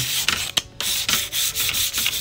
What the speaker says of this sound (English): you want to give them a quick sand buff to get them shining again